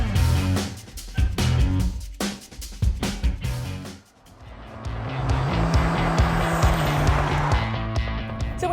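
A 2018 Ford F-150 with the 3-liter Power Stroke turbo diesel drives on a Colorado mountain road, a steady engine and tire roar filling the scene after choppy bursts of sound at the start, close and continuous.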